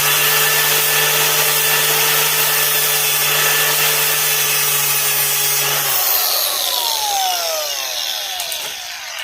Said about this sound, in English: I'm going to go ahead and just grind it